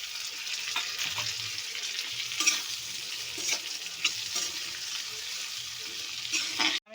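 Capsicum and tomato sizzle in hot spiced oil as they are stirred in a pan for a fish curry, a steady close frying hiss with light scraping stirs throughout.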